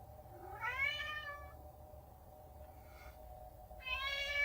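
A cat meows inside the Tomb Raider II video game: two drawn-out, rising meows separated by a quiet pause, clear and moderately close.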